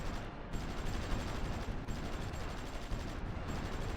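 Submarines firing in the strategy game Supreme Ruler Ultimate: a dense, continuous rattle of rapid gunfire-like bursts, steady and loud throughout with no pauses.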